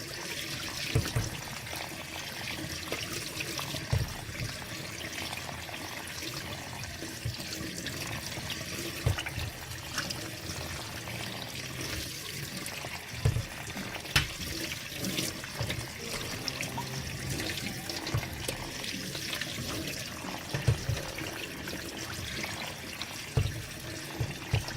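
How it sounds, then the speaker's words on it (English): Pulses, rice, bulgur and lentils being rinsed under a running kitchen tap for ezogelin soup: a steady, close stream of water with soft splashing and occasional sharper splats throughout. "I'm now washing the pulses, rice, bulgur and"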